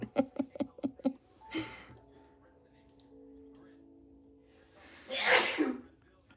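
A single loud sneeze bursts out near the end, close to the mic, after a run of quick tapping sounds and a quiet stretch with faint speech-like breaths.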